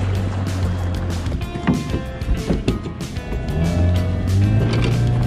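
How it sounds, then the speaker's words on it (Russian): Yamaha outboard motor with the engine tilted up, pushing a boat up a shallow taiga river, a loud steady close-up drone that rises in pitch near the end, with water noise underneath. "Мотор приподнят, Ямаха вещит."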